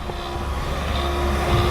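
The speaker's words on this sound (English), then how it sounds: "The fan is that noise you're hearing in the background right now" A low, constant fan whir with a faint steady hum runs throughout, quiet and unbroken, with no voices, from a suit ventilation fan turned way down.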